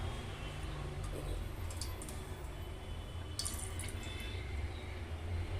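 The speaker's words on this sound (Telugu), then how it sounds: "ఆయిల్ పోస్తున్నాను చూడండి." Cooking oil poured into a pan on a home kitchen stove, a faint, steady liquid trickle against quiet room noise.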